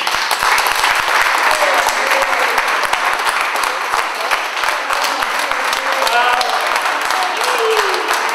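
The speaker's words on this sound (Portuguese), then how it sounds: "Quero um forte aplauso" Loud, dense applause from a large crowd at a fado concert, continuous clapping with scattered cheers and voices blended underneath.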